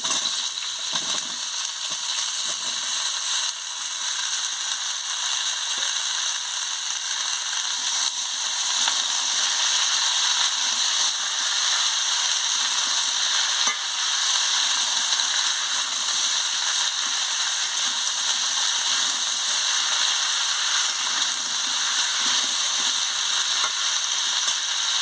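Pumpkin, potato and drumstick pieces sizzle steadily in hot oil with fried spices, a continuous bright frying hiss with occasional faint stirring scrapes, close and even throughout.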